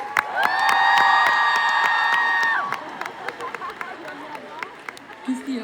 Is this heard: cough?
no